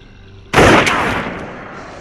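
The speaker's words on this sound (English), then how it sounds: "Shots fired." Gunfire from a single sudden, loud blast that cuts into near silence, then a long rumbling decay, with a faint second crack soon after.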